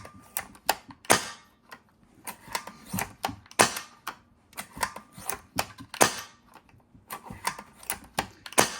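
Bolt action of a Silverback Tac41 airsoft sniper rifle fitted with Stalker red cylinder guide rings, cycled again and again close up: sharp, crisp clicks and short sliding strokes in a quick, uneven rhythm, with no voices.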